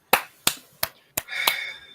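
Four sharp, snappy claps or snaps land in a quick uneven sequence, the last trailing into a brief ringing tone, close and moderately loud with no speech.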